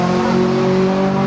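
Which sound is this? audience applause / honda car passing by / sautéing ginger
honda car passing by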